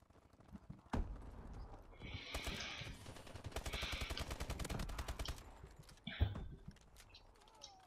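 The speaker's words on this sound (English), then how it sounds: "You have an obsidian steed." Hoofbeats and a horse's whinny from an obsidian steed in the video game Advanced Warfare, with a fast rhythmic clatter in the middle and bursts of gunfire mixed in.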